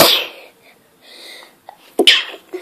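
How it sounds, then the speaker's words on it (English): A single sharp, close sneeze bursts out near the end after a short breathy intake, with faint quiet sounds before it. "Sorry guys, I sneezed."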